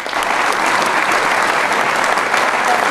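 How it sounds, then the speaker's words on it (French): Steady, dense applause from an audience at a mayor's New Year's address in Cabannes, filling the whole stretch loudly and evenly without a break. "on peut encore les applaudir"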